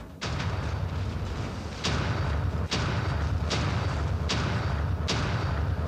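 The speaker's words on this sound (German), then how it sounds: "Ich finde vor allem den Sound von diesen Waffen extrem geil." The Tempest weapon in the robot combat game War Robots fires a series of heavy, booming shots, about five blasts at roughly regular intervals over a continuous roaring rumble, loud and close.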